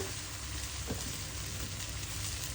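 Egg frying in hot oil in a pan for shrimp pad thai: a steady, dense sizzle runs throughout, close and even, with no talking.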